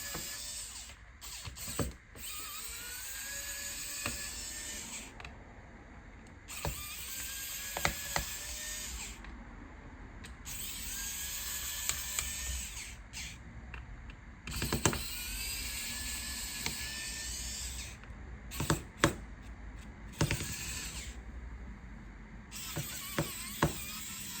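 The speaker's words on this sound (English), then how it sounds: "Get your Phillips screwdriver and unscrew the bottom screws for all of the screws." A Phillips screwdriver removes the bottom screws of a Dell Latitude E7480 laptop, giving close, quiet ratcheting clicks and turning scrapes in irregular bursts with short pauses between screws.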